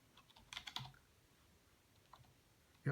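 A short burst of quick taps on a Logitech K400 Plus wireless keyboard, then quiet with a single faint click and a louder knock at the very end.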